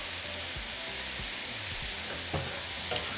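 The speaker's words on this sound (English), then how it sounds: "I already have my oil nice and hot. Going to allow them to get nice and golden." French fries frying in hot oil make a continuous hissing sizzle, up close and steady, with occasional soft knocks and stirring sounds.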